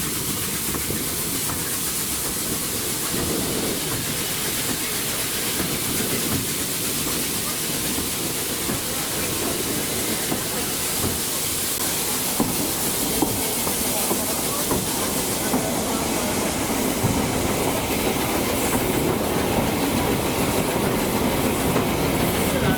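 A Welshpool & Llanfair Railway steam train climbs the steep one-mile Golfa bank at 1 in 29, a steady dense rumble of wheels and hiss running loud and close throughout with no talk.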